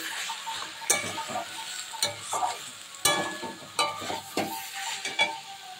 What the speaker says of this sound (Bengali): আর এদিকে দেখুন আমি আলু পোস্ত বসিয়েছি, আলু পোস্তটাও করে নিচ্ছি।